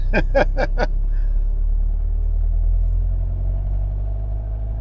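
A 1957 oval-window Volkswagen Beetle engine rumbles low and steady from inside the car while driving, with a few sharp knocks at the start before the drone settles.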